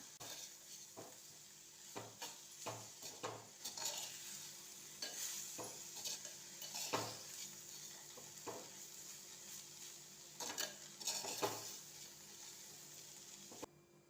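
Grated coconut is sautéed in a pan for a village-style bitter gourd curry, with soft steady sizzling and repeated scraping clinks of a spoon stirring against the pan, faint and close.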